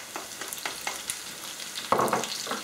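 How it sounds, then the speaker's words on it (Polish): Chopped onion lands in a hot pan with sausage and sputters, soft irregular crackles and taps building to a louder sizzle burst near the end, close and without talk. "Na patelnię wrzucam cebulę"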